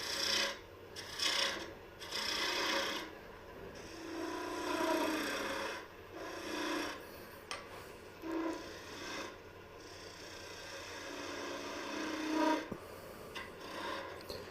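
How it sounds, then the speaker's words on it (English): A lathe turns a thin-walled wooden piece while a tool scrapes it in repeated rasping passes, with a faint rattle and chatter from the thin wood, fairly close and moderately loud, no speech. "rattle just a little bit once you start getting thin. You can kind of hear the little bit of the shatter."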